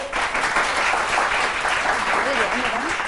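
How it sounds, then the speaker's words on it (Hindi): Studio audience applause fills a television talk show set: a continuous wash of many clapping hands, with voices talking over it. "तालियां बजाइए"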